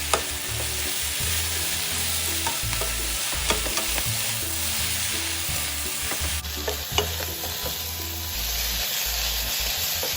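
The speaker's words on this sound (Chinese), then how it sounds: "一直炒至包菜断生" Cabbage stir-fried in a wok with no added water, a loud, continuous sizzle heard close, broken by regular scraping and tossing strokes of the spatula, with no voices.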